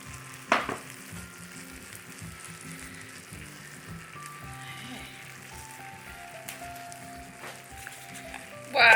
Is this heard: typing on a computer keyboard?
no